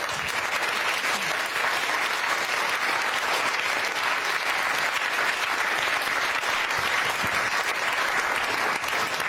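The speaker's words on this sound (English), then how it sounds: "Give him a round of applause, ladies and gentlemen." A studio audience at a daytime talk show bursts into loud, sustained applause, a dense wash of clapping hands that holds steady at full strength for the whole stretch with no voices above it.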